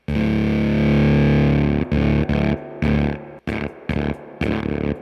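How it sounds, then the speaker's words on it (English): An electric guitar runs through a gated fuzz pedal, a thick distorted sustained chord that then chops into abrupt stuttering bursts as the gate cuts the signal, loud and close. "I really like the sound of the gated fuzz."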